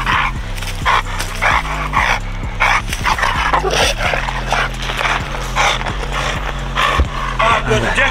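A German Shepherd puppy barks repeatedly and close by during play with a spring pole toy, with sharp, frequent yips and barks over a steady low hum and some background voice.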